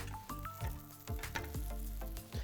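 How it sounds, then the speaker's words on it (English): Flatbreads fry in a little oil on a hot non-stick pan, giving a continuous close sizzle broken by repeated sharp crackles and pops. "So I'll give them a minute on that hot pan with a little bit of oil."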